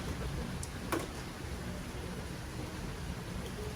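Steady rain hisses and patters throughout with a low rumble underneath, suggesting distant thunder, and a brief sharp crackle near the start; no one speaks.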